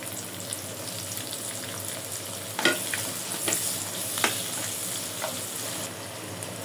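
Onions frying in hot oil in a home kitchen while cooking a goat meat curry, a steady close sizzle with a few sharper stirring clatters partway through, no voices.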